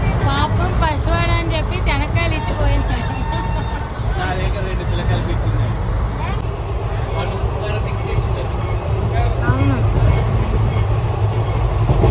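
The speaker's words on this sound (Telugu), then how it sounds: "ట్రైన్ అయితే వచ్చేసింది" A passenger train pulls into a station with a loud, continuous rumble, wheel screeches and rolling rail noise, while people talk nearby throughout.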